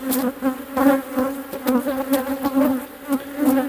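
Honeybee colony buzzing at an opened hive during queen rearing, a close, dense steady hum with pulsing swells and individual bees passing near, no talk.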